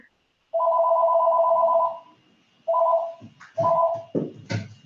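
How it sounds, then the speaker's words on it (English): A telephone rings in two-tone bursts: one long ring, a pause, then two shorter rings, clear and fairly close, followed by some rustling and handling noise. "Somebody's phone is ringing."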